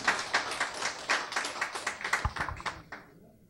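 A modest audience claps to welcome a participant, a short burst of distinct, fairly close handclaps with an uneven rhythm that thins out and stops after about three seconds.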